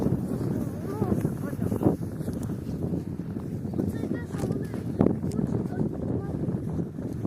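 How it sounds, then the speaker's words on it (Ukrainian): Wind buffets the microphone in low, rumbling gusts, with bumps and scuffs from movement throughout. "Оце ж зараз вітер в лице."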